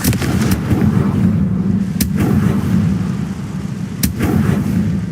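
Confringo blasting spell explosions in a Harry Potter video game, heard as sharp booming cracks at regular intervals over a dense, rumbling low background.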